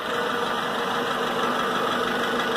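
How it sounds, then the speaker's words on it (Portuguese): A repaired 1998 Honda Civic engine runs at a steady idle, an even, continuous hum with no talk over it. "mais um rondinha com o motor recuperado aí"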